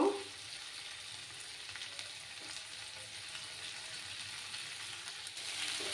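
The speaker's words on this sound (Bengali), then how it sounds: "একটু সময় আমি কষিয়ে নেব।" Masala for a catla fish curry fries in a pan with a low, continuous hiss and faint scraping, quiet and close, with the sizzle swelling slightly near the end and no talking.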